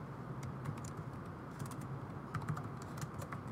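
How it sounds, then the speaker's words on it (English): Computer keyboard keys tapped in quick, uneven bursts while code is typed into a Notepad window, close and steady over a low background hum. "So let's go ahead and type out our code."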